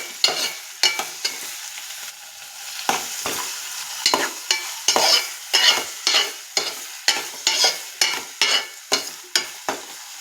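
Onions and salt are stirred in a cooking pan for a prawn pakoda curry. Rhythmic scraping strokes of a spoon keep coming over a soft background sizzle, close and distinct, with no voices.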